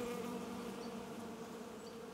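Mason bees buzzing close by in a garden, a steady, dense insect drone that fills the whole moment without pause or talk.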